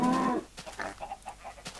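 Cows and chickens in the video game Minecraft, a short low moo at the start followed by several quick soft clucks from the animals, fairly close and moderately quiet, with no talking.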